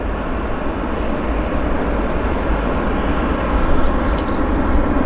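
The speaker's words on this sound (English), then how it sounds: "This 320 is going to taxi around right now on the other end of right there." An Airbus A320 airliner taxis at Vancouver airport, its engines giving a steady, continuous broadband roar that holds at a fairly even level throughout and swells slightly toward the end.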